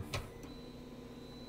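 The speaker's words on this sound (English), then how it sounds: "Let's move the axis, the y-axis, to see if it moves. Auto home." A 3D printer running its auto-home routine drives the y-axis, giving a brief mechanical whir and click at the start followed by a faint steady motor hum with a thin high whine, quiet and close.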